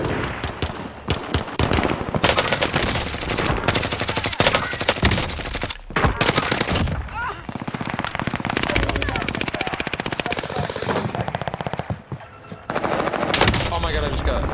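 Rapid sustained automatic fire from a GRAU 5.56 assault rifle in a shooter video game, loud dense bursts with brief pauses between volleys, some voices mixed in.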